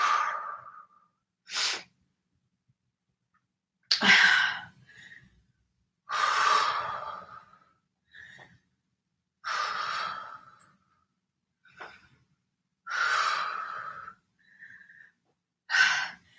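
Heavy breathing during a cardio workout, a series of loud, close exhales and gasps in spaced bursts with quiet gaps between, no talking.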